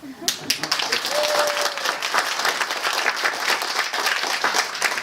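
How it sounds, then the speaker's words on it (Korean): An audience at a Korean talk bursts into warm applause, dense overlapping clapping that starts almost at once and carries on steadily to the end, with a faint voice early on. "뜨거운 박수 부탁드리겠습니다"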